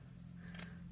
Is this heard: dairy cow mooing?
no